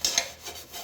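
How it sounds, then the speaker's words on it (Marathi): Dishwashing at a kitchen sink, where a dosa griddle and a few utensils are being scrubbed clean, with light clinks of metal pots and a soft rubbing, scraping texture running through the short stretch. "थोडे भांडे पडलेले मी धुवून घेते आणि डोशाचा तवा मीच धुवून घेते"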